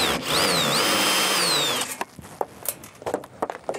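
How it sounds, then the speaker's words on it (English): A power drill fitted with a 10 mm socket whines loudly and steadily for about two seconds as it unscrews the shipping crate of a Dualtron X Limited electric scooter, then gives way to scattered knocks and rattles of the crate. "I just got a socket on my drill and"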